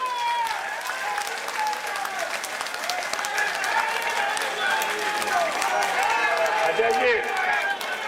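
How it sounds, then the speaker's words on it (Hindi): A crowd at a Congress party president's inauguration ceremony in India claps loudly, a dense, sustained burst of applause that holds its strength throughout, with voices calling out above it. "एक बार दोनों हाथ उठाकर तालियां जोरदार ढंग से बजाइए।"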